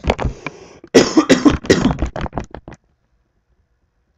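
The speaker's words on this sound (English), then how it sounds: "Still got the coughs" A racing commentator coughs in a rapid fit of harsh bursts close to the microphone, tapering off into silence.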